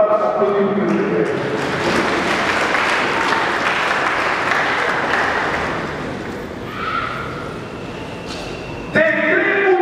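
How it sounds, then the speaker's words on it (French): Applause from a congregation at a funeral service, a dense wash of clapping that swells early and tapers toward the end, with voices mixed in throughout. "Laissez-moi applaudir le Seigneur."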